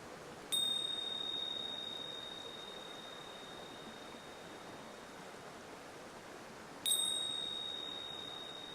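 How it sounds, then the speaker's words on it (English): Meditation bell struck at the start of a guided meditation, a clear ringing tone that decays slowly over several seconds, then struck again, heard alone over a soft steady background hiss. "there'll be a bell at the beginning and a bell at the end"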